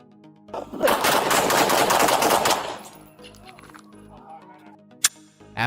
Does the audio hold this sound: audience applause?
no